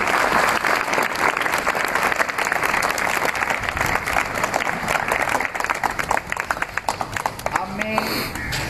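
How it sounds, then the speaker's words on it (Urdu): Loud, sustained applause from a school audience honouring retiring staff at a farewell ceremony, dense clapping that fills the hall throughout, with voices and a few louder individual claps near the end. "تو ان کے لیے بھی بھرپور تالیاں ہونی چاہیے"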